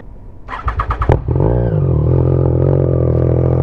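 A Triumph Trident 660 motorcycle with a Firetong full aftermarket exhaust cranks with rapid chugging pulses, then catches and settles into a loud, deep, rumbling idle from the throaty exhaust up close.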